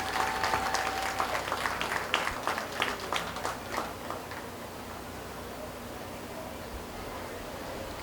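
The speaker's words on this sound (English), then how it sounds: "Please give them another round of applause." Crowd at a 4-H/FFA beef show at a county fair applauding, scattered clapping that starts strong, thins and trails off after a few seconds, leaving low ambient hall noise.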